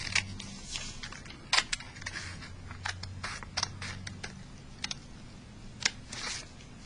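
Scissors snip along the edge of a paper foldable to make tabs that flip up individually, a run of soft, close crisp cuts and scrapes over a quiet room, with no voices.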